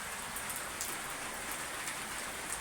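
Rain falls steadily, making a dense, even hiss of drops striking surfaces. It is constant and moderately loud throughout, with no voices.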